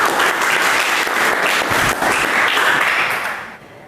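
Students in a classroom break into loud, sustained applause that continues for several seconds and then fades near the end.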